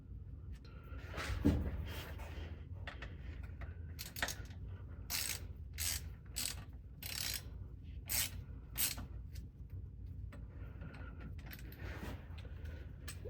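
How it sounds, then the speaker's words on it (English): A torque wrench tightening the transfer case drain plug on a 2024 Jeep Wrangler, with a run of crisp ratcheting clicks in quick bursts under low garage background noise, close and with no talking. "using a torque wrench, you need to torque it down to 21 foot-pounds"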